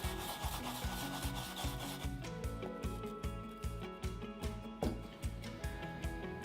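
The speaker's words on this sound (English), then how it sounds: "you want to just grate it really finely on a shark skin paddle board" Fresh wasabi root grated finely on a shark skin paddle gives a steady, rhythmic rasping scrub, with repeated close strokes over a background of tonal music.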